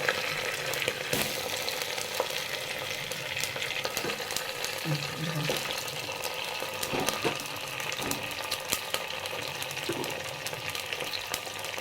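Eggplant pieces for a Tamil kathirikai kara kulambu frying in a pan, giving a steady, fairly loud sizzle throughout with occasional clicks and soft stirring scrapes, no voices.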